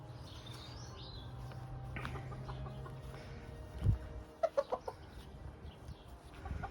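Cockerels in an English cottage garden give a few short, sharp clucks midway, fairly faint and a little distant. A low hum and light outdoor rustling run underneath, and nobody speaks.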